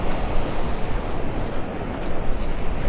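Gusty wind on Vanderbilt Beach in North Naples, Florida, roaring loudly into the microphone with buffeting surges, mixed with surf wash along the shore.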